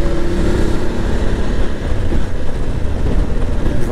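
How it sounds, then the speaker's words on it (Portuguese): A BMW F850GS motorcycle with a 270-degree crankshaft parallel twin pulls in fourth gear from low revs, giving a loud, steady engine drone mixed with wind rush that holds throughout, with no pauses and no one speaking. "Ó, quarta marcha com a rotação baixa, é uma moto que ela puxa bem."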